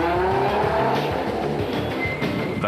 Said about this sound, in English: The crowd certainly got its money's worth as the 3rd placed Class B cars sped by